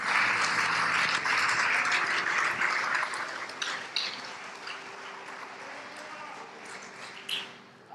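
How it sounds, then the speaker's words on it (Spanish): A church congregation gives applause during a Spanish-language sermon, with clapping that is strongest at first and then thins out and fades, with a few scattered voices. "Denle un aplauso a las mujeres, al Señor."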